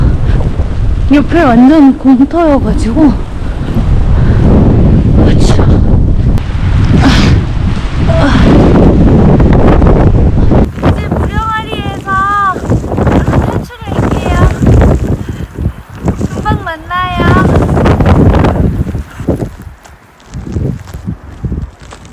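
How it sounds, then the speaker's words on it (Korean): Strong wind buffets the microphone on a winter trail run in Jeju during heavy snowfall, a loud, continuous roaring rush, while a person speaks at times over it. "바람이 너무 많이 불어서"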